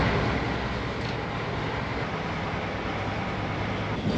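Loud, steady engine drone and rumble heard from inside a first class carriage of a British train, an unbroken low roar with no talking.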